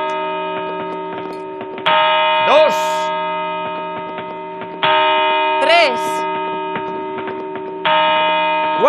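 New Year's midnight bell chimes for a Spanish countdown broadcast, three loud, ringing strikes spaced about three seconds apart over a sustained hum, with voices faintly underneath.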